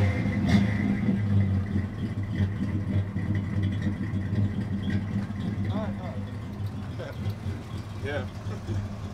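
A 1967 Ford Mustang engine idling nearby as a steady low rumble with a mid-pitched whir, while a person talks over it.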